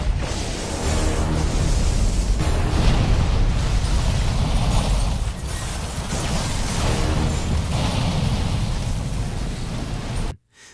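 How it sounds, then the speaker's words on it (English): A massive explosion in a sci-fi movie, where an aircraft crashes into an alien ship: a dense, sustained roaring blast with rumbling low end and crackling debris that stays loud for about ten seconds before cutting off abruptly. "crash the ship, which killed the aliens along with the general in a massive explosion"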